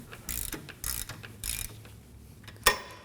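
A 14mm socket on a ratchet cracks loose the rear brake caliper bracket bolts of a 2016-2020 Kia Sorento, giving three close bursts of ratcheting clicks followed by one sharp metallic snap as a bolt breaks free.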